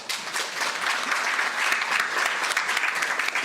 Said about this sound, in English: can we please give these new members a warm round of applause?